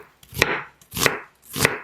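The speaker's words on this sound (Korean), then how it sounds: "양파는 반으로 자른 다음 가늘게 채 썰어주세요." A knife slices a halved onion into fine strips on a cutting board, three crisp chopping strokes in an even rhythm about half a second apart, each a close, sharp knock with a brief scrape, heard alone.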